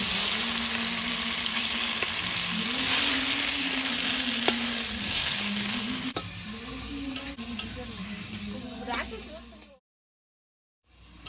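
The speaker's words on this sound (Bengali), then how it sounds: "বাটাটা তেলে এবার একটু নেড়ে নেব" Ground vetkuli leaf paste fries in mustard oil in a wok, a loud, continuous sizzle with stirring scrapes, ending in a short silent gap.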